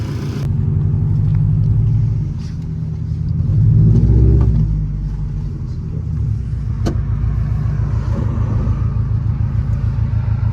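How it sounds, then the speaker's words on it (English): A newly installed engine in a car idles steadily and loud, a low rumbling drone with a faint ticking piston slap and slight swells in revs, no talking. "this thing is idling okay. It has got a little bit of like a piston slap noise"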